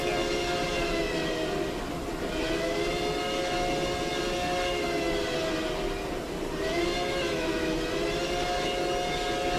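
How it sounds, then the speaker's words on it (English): A locomotive whistle blows as a train nears a grade crossing, a sustained multi-tone chord held loud and steady throughout, with a brief dip in pitch midway before it sounds again. "That's a nice whistle, though."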